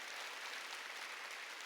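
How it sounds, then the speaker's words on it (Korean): A church congregation at an Easter Sunday service claps together to glorify God, producing a steady, dense wash of applause with no break that stays fairly faint and distant throughout. "박수로 하나님께 영광 돌려야죠"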